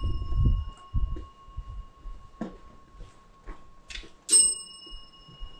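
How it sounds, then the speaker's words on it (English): A bicycle bell rings on a trekking trail near houses in Nepal, a couple of short bright dings standing out near the end over low rumbling and handling noise. "I didn't hit the bell."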